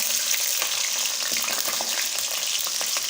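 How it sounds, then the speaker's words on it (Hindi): Onions sizzle and fry in hot ghee in a pot, a steady, close crackling hiss with brief bubbling pops throughout. "अभी हम प्याज डालेंगे इसके अंदर।"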